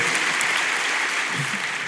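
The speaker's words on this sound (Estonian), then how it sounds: "Aplaus talle." Steady applause from a small group fills the whole two seconds, dense and fairly loud, with no talk over it.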